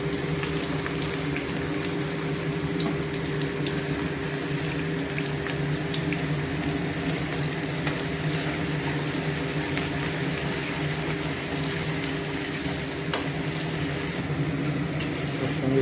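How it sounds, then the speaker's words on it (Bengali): Onion fries in a pan with a continuous, even sizzling hiss, steady and fairly loud, with occasional faint clicks of stirring. "এবার পেঁয়াজটা দিয়ে দিলাম, পেঁয়াজটা একটু নেড়ে নেবো যতক্ষণে লাল না হচ্ছে"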